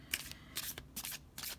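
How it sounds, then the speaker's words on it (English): Thick cards from a Birds Oracle deck are shuffled by hand without riffling, giving four soft, close papery bursts at an uneven pace. The sound is quiet throughout. "I'm just gonna shuffle a little bit."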